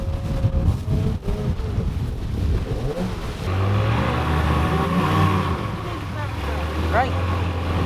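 A boat motor runs on a bayou, rough at first and then settling into a steady, loud drone with a brief rising rev near the end, and voices murmur underneath.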